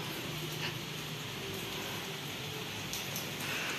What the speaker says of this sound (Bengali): বৃষ্টি প্রচণ্ড পরিমাণে পড়ছে, এখন তো একটু বৃষ্টির তেজটা কমেছে।